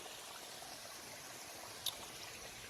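A small mountain spring trickling in the Great Smoky Mountains, a soft steady watery wash alone in the open air, with one brief tiny click near the end.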